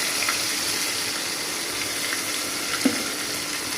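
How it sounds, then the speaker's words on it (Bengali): Onion paste frying in a pan for a pangas fish curry with mustard paste gives a steady, close sizzle throughout, with a brief clink near the end. "এই যে পেঁয়াজ বাটা দিয়ে দিচ্ছি।"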